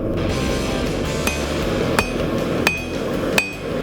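A hammer strikes hot metal on an anvil while forging a hook, with several sharp ringing blows spaced about a second apart over a steady background roar.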